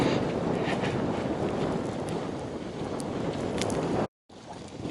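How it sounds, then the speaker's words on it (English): Wind buffets the microphone on a breezy outdoor walk beside a lake, a steady roaring gust noise that continues almost unbroken apart from a brief dropout. "You can see how breezy it is."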